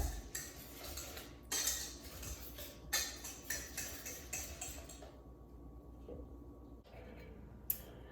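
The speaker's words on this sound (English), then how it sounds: "add the baking soda, and I'm just gonna whisk it together" A whisk clinks against a bowl while mixing an oatmeal and baking soda pancake batter, steady rapid metallic ticking and scraping close by, with louder bursts and a quieter stretch near the end.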